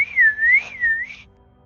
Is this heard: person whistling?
yes